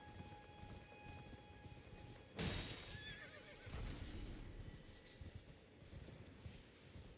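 A horse whinnies sharply after a faint hum, followed by heavy hoof thuds and shuffling, moderately close with a synthetic game-like tone.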